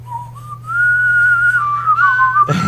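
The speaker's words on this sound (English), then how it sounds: "And it's got that whistle." A clear, melodic whistle carries a Western-style tune over a low, steady hum, bright and prominent, sliding between sustained notes before a brief burst of noise at the end.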